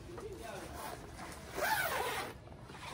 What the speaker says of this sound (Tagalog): Dalawa ang zipper niya